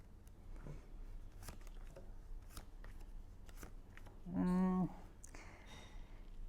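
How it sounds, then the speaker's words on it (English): A deck of tarot cards is shuffled by hand in a quiet room, giving soft, irregular papery flicks and riffles, with a brief louder tonal sound midway. "I'm just trying to shuffle them well so that we get a nice,"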